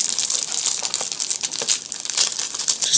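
A PinchMe unboxing package being opened by hand, with close, loud crinkling and tearing of plastic wrapping in quick irregular bursts throughout.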